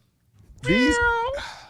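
A cat, held in a shark costume, gives one drawn-out, rising-then-falling meow, loud and close, preceded by a brief low murmur.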